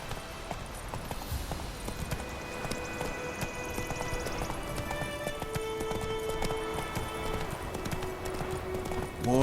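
Horse hooves gallop in The Witcher 3, a fast, steady clip-clop of hoofbeats close by under a layer of ambient game sound, with faint bits of music.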